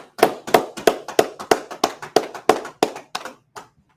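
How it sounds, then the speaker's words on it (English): A group clapping in rough unison in a classroom: about a dozen sharp, loud claps in a steady rhythm roughly three per second, close by, with no talk over them. "All right, let's clap it up. Let's clap it up."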